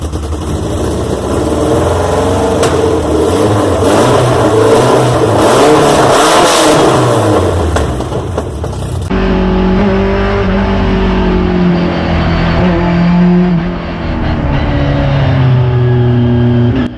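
A BMW E30 M3 2.3-litre S14B23 naturally aspirated four-cylinder engine revs hard and close, its pitch climbing and falling, then settles into a steady, lower drone.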